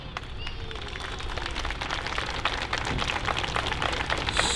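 Children clap for firefighters bowing and curtsying at an outdoor fire station open day, a dense, steady patter of many small hands that holds at a moderate level throughout, with scattered voices mixed in.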